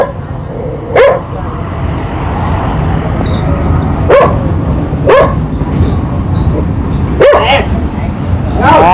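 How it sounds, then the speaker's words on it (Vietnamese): A dog barks sharply about five times, spaced irregularly with a quick double near the end, mixed in with lively Vietnamese conversation in a rural home village during Tet preparations. "Ôi con chó, chị ơi."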